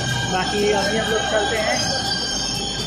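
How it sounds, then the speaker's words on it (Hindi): Delhi Metro train pulling into a station platform, a steady rumble with a high sustained tonal whine running throughout, while someone talks over it close by. "आ गई है मेट्रो"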